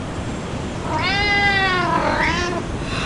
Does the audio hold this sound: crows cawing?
no